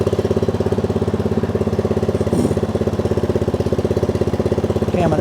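A 2025 Cub Cadet CC30H lawn tractor engine runs at a steady, loud, close idle with an even pulsing throb and no break in the sound.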